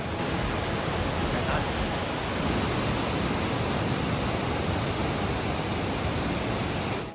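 A waterfall at Plitvice Lakes National Park, heard from a walkway on top of it, makes a loud, steady, close rush of falling water throughout.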